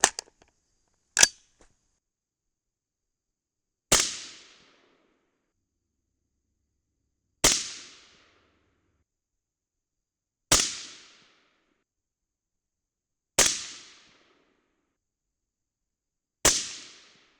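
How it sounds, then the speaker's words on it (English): Rifle firing a CCI test group loaded with BL-C2 powder. A string of about seven sharp, loud shots comes every few seconds, each dying away quickly into silence. "shoot our CCI number 41 test group with BL-C2"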